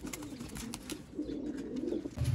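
Soft, low cooing comes from Sialkoti Batera pigeons in a few repeated pulses, near and faint, with no speech over it.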